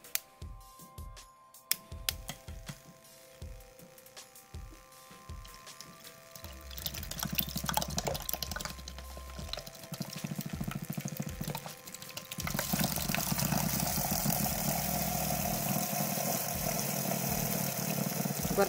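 Motorized paintbrush spinner whirring as it cleans a brush held at the bottom of a bowl of water, a steady buzzing motor hum with splashing that grows louder and denser partway through, preceded by scattered knocks and clicks.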